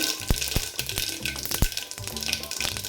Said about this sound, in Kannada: ಆಯಿಲ್ ಬಿಸಿ ಆದಮೇಲೆ 1 ಸ್ಪೂನಷ್ಟು ಸಾಸಿವೆ, ಹಾಗೆ 1 ಸ್ಪೂನು ಜೀರಿಗೆ ಎರಡು ಚಟಪಟ ಆದಮೇಲೆ